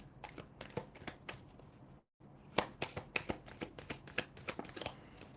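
Oracle cards being shuffled by hand, a dense run of quick riffling and flicking clicks that stops for a brief moment of silence and then carries on, soft and close, with no voices.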